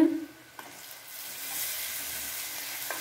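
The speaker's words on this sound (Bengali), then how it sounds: "দেখো মাটনটা দিয়ে দেওয়া হচ্ছে," Goat mutton drops into a pan of browned onions and garlic, and a steady sizzle swells from a short opening burst into a broad, constant hiss that holds close and loud to the end.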